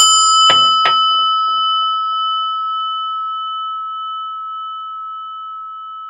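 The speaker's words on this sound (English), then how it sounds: "listen to the prayer bell" A single struck prayer bell rings out clearly with a bright metallic strike, then a pure sustained tone that hangs and slowly fades in quiet.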